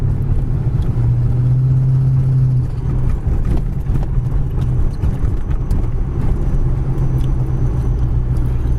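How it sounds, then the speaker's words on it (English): A 1939 Chevy street rod drives along with a continuous low engine rumble and road noise, loud and steady throughout with a faint droning tone, no talking. "So car runs and drives nice."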